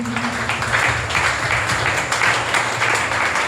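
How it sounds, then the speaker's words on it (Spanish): A church congregation gives a loud, steady round of applause at a worship service, a dense wash of clapping that fills the whole stretch. "Vamos a darle un fuerte aplauso a nuestro Señor."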